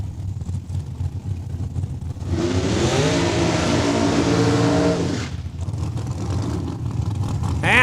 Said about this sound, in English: And Travis McBain warming up those rear tires, the 2012 dragster.